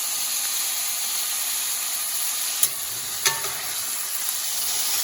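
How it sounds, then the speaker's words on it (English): Bite-sized pieces of deer meat browning in a nice hot skillet, a steady close sizzle and hiss with a couple of sharp stirring clicks partway through. "cut it into bite-sized pieces, and then you'll brown it really good on all sides."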